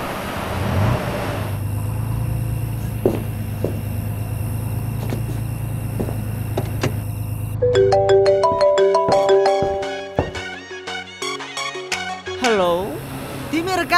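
A phone ringtone playing a bright, repeating electronic melody that cuts in over a low rumbling background, then continues in quick rising and falling tones.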